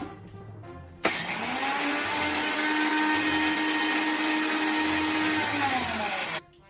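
An electric kitchen mixer grinds dry chilies and dry curry leaves for a Kerala chicken dish, switching on abruptly into a loud, steady whirring drone with a rising motor pitch that runs for about five seconds, then cuts off.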